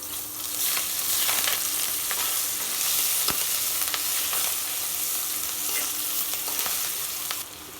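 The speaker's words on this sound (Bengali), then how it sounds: "তেলের উপরে দিয়ে দিলাম পেঁয়াজ" Onions hit hot oil in a pot for a beef curry, producing a steady close sizzle with scattered crackles and faint utensil ticks, continuous and fairly loud without any talk.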